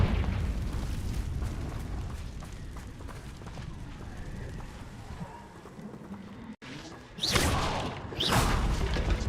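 A fire explosion spell going off in the video game Hogwarts Legacy on hard mode: a steady rumble of game sound, a brief drop, then two loud, heavy booming blasts near the end.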